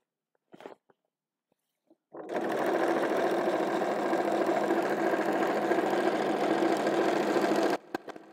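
A sewing machine starts after a few faint clicks and runs in one long, steady whirring stitch for several seconds before stopping abruptly.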